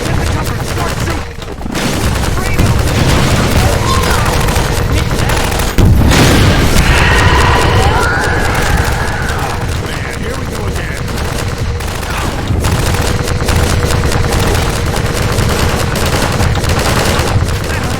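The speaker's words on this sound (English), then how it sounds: "Get the cover and start shooting." Heavy gunfire and booming blasts from a Half-Life 2 battle against a Strider at the sawmill, a dense continuous barrage that stays loud throughout with occasional stronger impacts and no talk.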